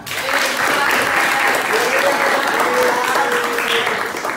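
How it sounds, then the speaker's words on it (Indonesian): A classroom of students applauds a classmate during a religious education lesson, a steady, fairly loud wash of clapping that lasts several seconds, with faint voices mixed underneath. "Tepuk tangan sama sahabat."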